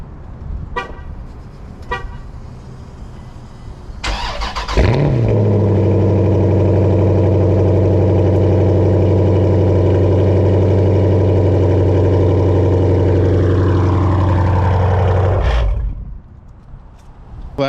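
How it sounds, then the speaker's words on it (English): Jeep SRT8 V8 cold-starting loud and close, surging after a brief crank into a steady, throbbing high idle that holds for about ten seconds before settling lower, with light clatter beforehand. "I'll give you guys a quick cold start and then we'll hit the road."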